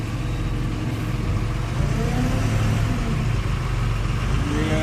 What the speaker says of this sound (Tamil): அண்ணா வீல் சுத்துதுண்ணா, பார்த்து போனேன்.